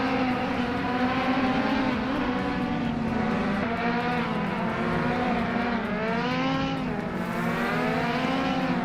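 2013 Caterham 620R race cars in a racing video game drone continuously with high, layered engine tones that rise and fall in pitch as they shift and accelerate, loud and unbroken.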